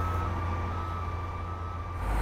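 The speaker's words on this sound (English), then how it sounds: "Bus is leaving without me." Bus pulling away from its stop, heard as a steady low engine rumble with a high, sustained electronic tone on top, fairly quiet and continuous, growing a little louder at the end, with no talking.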